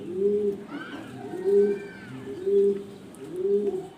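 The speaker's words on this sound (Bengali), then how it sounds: "ব্ল্যাক কালার ড্যানিশ কবুতর" Black Danish pigeons coo in a repeated low, rolling rhythm at close range, about four cooing phrases spaced evenly, with faint chirps from other birds in the background.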